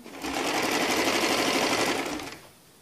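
A sewing machine runs in one steady, fast stitching burst of about two seconds, close and fairly loud, then stops.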